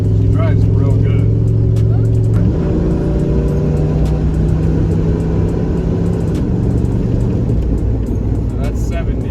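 Car with a 4L60E automatic transmission cruising in drive rather than overdrive, a steady engine and road drone that shifts in pitch partway through, heard from inside the cabin.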